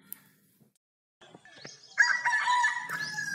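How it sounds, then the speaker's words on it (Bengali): A rooster crows in the morning in a quiet village setting, its loud, close call rising after a brief silence and holding for over a second, with a few faint clucks and rustles just before. "মোরগের ডাক শুনে ঘুম ভাঙল।"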